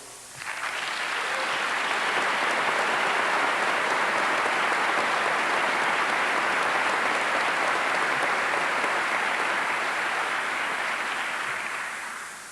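A large crowd at a 1993 university commencement ceremony bursts into loud, sustained applause that fills the hall for about twelve seconds. The clapping is dense and continuous, then tapers off at the end.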